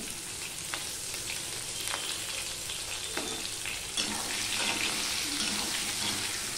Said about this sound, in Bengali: এই আলুটা এবার আমি ভেজে নেব।